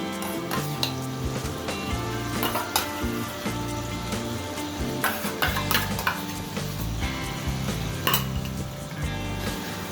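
Beaten sour yogurt lands among frying ground spices, producing a busy crackling sizzle with scattered spatter pops and occasional clinks of a utensil against the pan.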